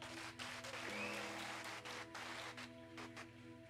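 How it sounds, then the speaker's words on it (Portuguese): A church congregation claps steadily for several seconds during a service, a sustained wash of applause with faint tonal sounds underneath. "Você pode aplaudir a Jesus nessa noite?"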